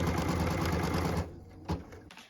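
A sewing machine stitches a tack-down line on an appliqué star flag quilt block, running in a fast steady whir up close for over a second, then stopping, followed by a few faint handling clicks.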